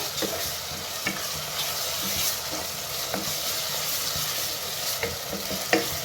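Beef with spices sizzles steadily in a pan over a high flame, with a continuous frying hiss broken by occasional sharp scrapes and taps from a stirring spoon, no talk.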